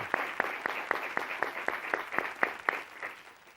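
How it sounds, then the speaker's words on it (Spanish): Studio audience on the Spanish TV quiz show El tiempo es oro claps in steady unison: about a dozen sharp, evenly spaced claps, moderately loud, with no talking. "Yo creo que el señor Cazorla se merece un aplauso."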